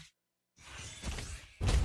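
A tower crumbles in a Mobile Legends-style MOBA match, a brief shattering crash with a swishing burst, set among other game effects after a moment of silence.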